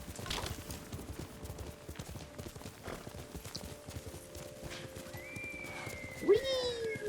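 Kage the horse galloping in the game Ghost of Tsushima, steady quick hoofbeats throughout, a brief whinny near the end and a high tone over the last seconds, with someone talking over the run.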